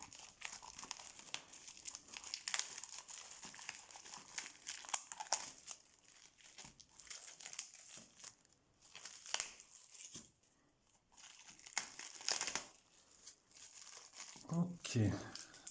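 Crinkly plastic wrapping and pages are torn and crumpled open on a collectors' magazine and a Digimon card booster pack, in close, irregular bursts of rustling with short pauses, a voice speaking intermittently throughout.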